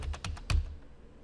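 Quick keystroke taps on a computer keyboard while troubleshooting a Windows PC: a short run of crisp, close clicks, then quiet.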